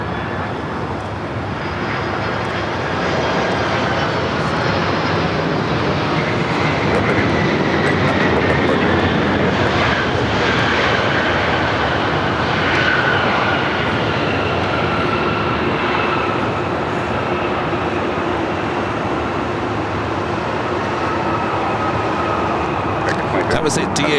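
ABX Air Boeing 767-300ER converted freighter arriving at LAX in bad weather, a steady loud jet roar holding for the whole stretch with a slowly shifting whine on top.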